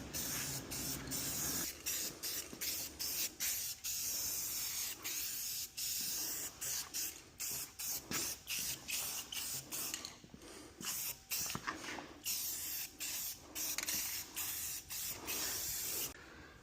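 Spray paint hisses from a can onto chain link gates in a shop, in a rapid series of short, close bursts separated by brief pauses.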